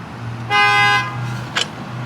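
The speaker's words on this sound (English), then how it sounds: "That's a honk." A car horn in traffic gives one loud, sustained honk of about half a second, followed a moment later by a shorter, fainter toot over steady road rumble.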